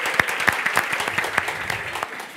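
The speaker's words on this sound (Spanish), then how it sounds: "un aplauso a Jimenita." An audience claps in a burst of applause, with many hands striking in quick, uneven succession. It is fairly loud and close for a couple of seconds, with no voices standing out.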